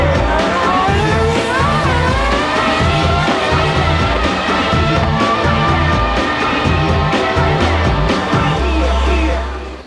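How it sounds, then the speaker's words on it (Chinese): Formula One racing cars roar past on a circuit, loud high-revving engines with rising and falling pitch as they shift and sweep by, a heavy low rumble swelling near the end. "光听到这个怒吼的引擎声，应该整个人都清醒过来了"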